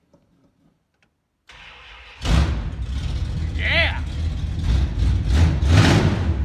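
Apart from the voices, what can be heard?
1969 Plymouth Road Runner engine starting and revving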